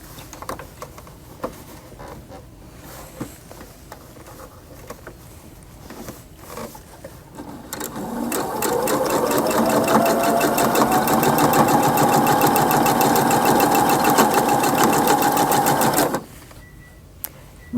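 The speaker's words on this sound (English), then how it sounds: "I'm going to resew this seam actually" A sewing machine restitching a quilt seam starts up after some quiet handling noises and runs steadily for about eight seconds with a rapid, even needle rhythm, then stops.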